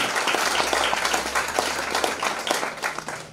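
Audience applause at a university gathering, dense sustained clapping from a large crowd close by, holding steady before tapering slightly at the end.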